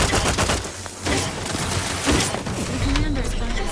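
Dense gunfire in The Outer Worlds 2 video game, a continuous crackling fusillade under loud combat noise, with voices speaking over the exchange.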